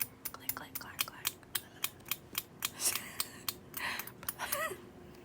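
Glow-in-the-dark polymer clay chopped finely with a blade, giving a run of crisp, close clicks and taps in an uneven rhythm, with soft whispery handling noise between them.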